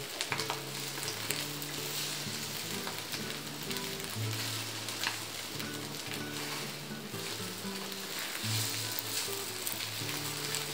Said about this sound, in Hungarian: Felvered és jó-jó forró serpenyőbe ki beletenni.